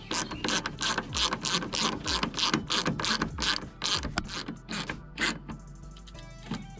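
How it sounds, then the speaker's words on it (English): Ratchet wrench snugging bolts on a 2009–2014 Ford F-150 rear door actuator, a close, rapid series of crisp clicking strokes in bursts, slowing and stopping near the end, with no talking. "We'll go back and put a final torque on them."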